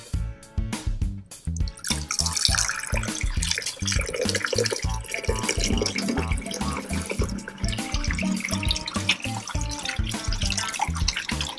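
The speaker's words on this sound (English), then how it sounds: "So as the milk punch flows through," Milk punch pours through a filter bag in a steady close trickle with dripping and splashing, a continuous liquid flow heard alone.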